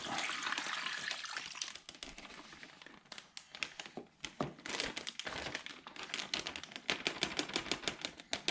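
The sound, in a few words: marinade poured into bag of venison for jerky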